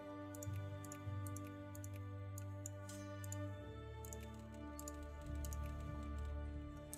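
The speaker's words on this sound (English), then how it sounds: "I like the little telegram typewriter sound whenever you click the Navy." Faint, quick typewriter-like clicking from the Victoria 2 strategy game plays in short bursts over a steady low electronic hum when the navy is selected.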